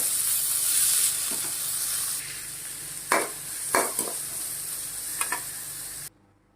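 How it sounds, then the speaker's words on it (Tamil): Green chillies and tomato sautéing in a pan for a snake gourd curry, a loud even sizzle with several spatula scrapes, then the sound cuts off abruptly. "ஒரு தக்காளி பழம் அதில் சேர்த்து கொஞ்சம் நல்லா வதக்கிக்கிங்க"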